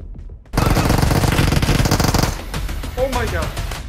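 Automatic AKM Glacier rifle fire in a video game, a loud continuous burst of rapid shots lasting about two seconds, then sparser shots and game effects.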